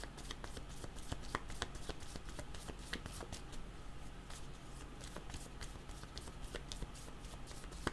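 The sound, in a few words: shuffling tarot cards to draw a card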